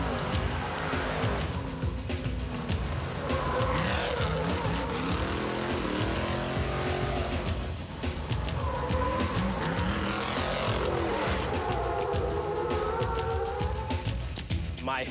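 A 6,000-pound, 950-horsepower truck launches hard from an intersection, its engine roaring loudly and continuously with rising pitch sweeps as it pulls through gears, tires squealing beneath the steady close-up engine noise.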